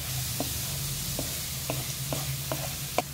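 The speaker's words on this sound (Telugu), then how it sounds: "ఆనియన్స్ అయితే గోల్డెన్ కలర్ వచ్చేదాకా మనం ఫ్రై చేసుకోవాలి" Chopped onions frying in a pan for a moringa (drumstick leaves) stir fry, a steady low sizzle broken by about six soft spoon-stirring scrapes at regular intervals.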